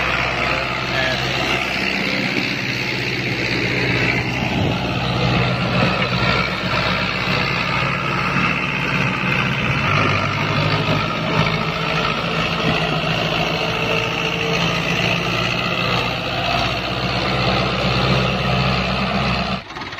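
A 2013 New Holland 640 75 hp tractor pulls a disc harrow across a field, its diesel engine droning steadily and loudly under load, with clattering implement noise mixed in and a faint voice at times.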